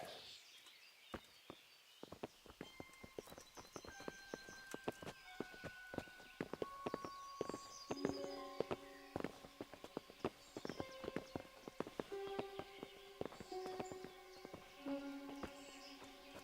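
Hooves clip-clop at a steady walking pace in the video game Kingdom Come: Deliverance, several horses moving together, with light ringing tones and faint ambient sounds behind them.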